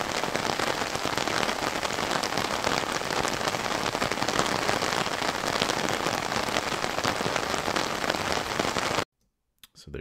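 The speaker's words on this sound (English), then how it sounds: "let's take a listen to what the rain on the umbrella sounds like without any manipulation whatsoever" Steady dense rain patters on an umbrella, a constant close crackling wash that runs for about nine seconds before cutting off abruptly to near silence.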